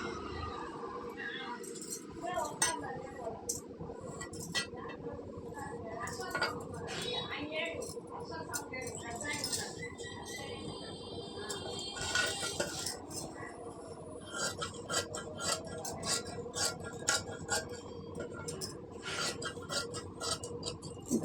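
Scissors cut cloth for a prince-cut blouse, giving soft, quiet rasping snips that repeat steadily under someone talking throughout.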